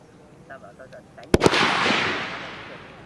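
A pair of sharp rifle shots cracks out in quick succession at a sniper shooting competition, with a long, rolling echo trailing behind; faint talk is heard just before.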